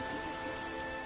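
Steady rain falls in The Witcher video game, a dense, even hiss of drops on surfaces with no pauses and no voices over it.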